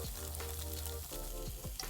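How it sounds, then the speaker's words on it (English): Tofu cubes fry in melted butter in a hot pan, a steady close sizzle running throughout, with a few brief scrapes and stirs of the pan near the end. "With the second cube of butter, fry the tofu till it's golden"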